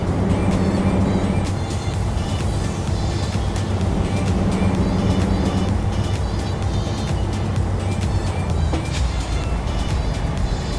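In Euro Truck Simulator 2, a truck carrying a big silo accelerates in eighth gear with a loud, steady engine drone and road rumble, unbroken for the whole stretch.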